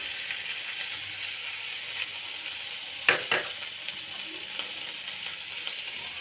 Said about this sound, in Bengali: এবার দিয়ে দেব পেঁয়াজ রসুন পেস্ট।